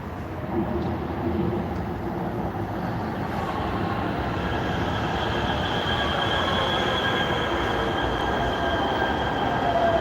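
A heavy-rail metro train rolls into a station with a loud, steady rumble and rising high-pitched wheel squeal, continuous and close throughout.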